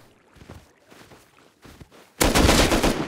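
Gunfire in the Rust video game: a few scattered muffled shots at first, then a loud sustained burst of rapid automatic fire up close, with no talking.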